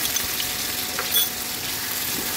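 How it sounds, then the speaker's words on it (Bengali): Prawns and pointed gourd seeds frying in oil, a steady, hissing sizzle that stays even and close throughout, with one slight swell partway through and no voices. "এই তেলের মধ্যে চিংড়ি মাছটাকে ভেজে নিচ্ছি।"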